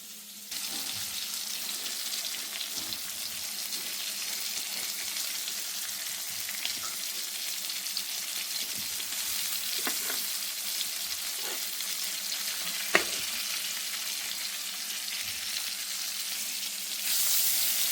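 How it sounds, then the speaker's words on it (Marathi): Surmai (kingfish) pieces fry in a pan with a steady, close hiss and crackle of hot oil, with a few sharper pops along the way and no talking. "मस्त फ्राय होत आहेत इथं मासे सुरमई फ्राय आपण बघू शकतो"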